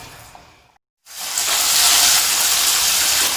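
A breaded zinger burger chicken piece drops into hot oil for deep frying. A quiet hiss breaks off, then a loud, steady sizzle and bubbling surges up and holds close by.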